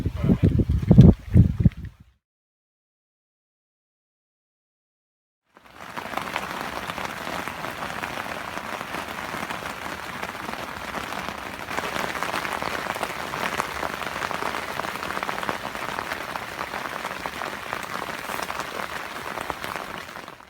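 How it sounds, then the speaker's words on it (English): Rain patters steadily on a lakeside carp fishing spot, a dense hiss that holds for most of the stretch after a brief burst of noise and a few seconds of silence. "the rain's eased off now"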